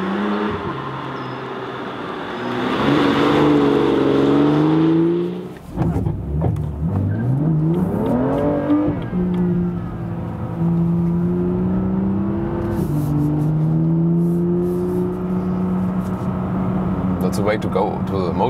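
A BMW M2 Coupé with a 370 hp engine and 7-speed dual-clutch transmission accelerates hard from a traffic light, the engine note rising through gears with clear shift drops, heard from inside the car under a driver's talk.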